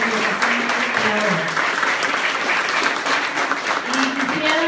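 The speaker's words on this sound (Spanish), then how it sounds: "Un aplauso para ustedes, porque ustedes se merecen ese aplauso" An audience at a provincial council ceremony applauds in steady, dense clapping that runs the whole time, loud and close, while a voice speaks over it.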